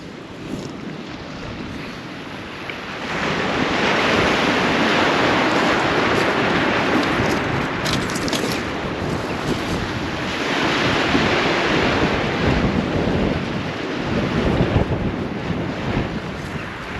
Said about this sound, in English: A bit of wind getting up.